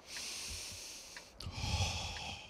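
A deep breathing exercise in World of Tanks: a slow inhale followed by a sharp snort-like intake and a heavier, rushing exhale, close and fairly quiet.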